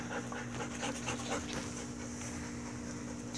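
A little puppy panting, a quick, rhythmic run of breathy huffs close to the mic over a steady background hum, with no talking.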